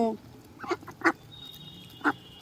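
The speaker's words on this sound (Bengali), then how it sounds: "দেখেছো মিশু কেমন হাঁসকে খেতে দিচ্ছে" Ducks quack in a few short, sharp calls while being fed by hand outdoors, close by, with people talking nearby.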